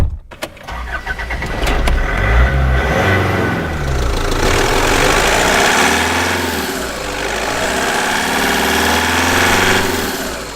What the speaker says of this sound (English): let's get on the road with Bob behind the wheel.